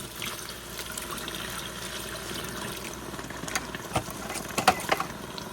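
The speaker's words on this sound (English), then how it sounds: "I'm actually going to put a bit more water with that" Water is poured into a mortar mix during a barn renovation, a steady low pouring and trickling wash with a few sharper splashes near the end, close by with no talking.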